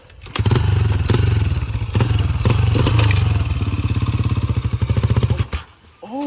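Dirt bike fitted with an oversized rear sprocket revving hard in first gear, a loud close, buzzy engine note that holds steady for about five seconds, cuts off, then briefly blips again.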